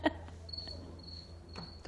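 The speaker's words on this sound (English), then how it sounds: "Don't know if you can hear crickets." Crickets chirp at Walt Disney World, with a steady high-pitched trill running through most of the clip over low background hum and faint ambient noise.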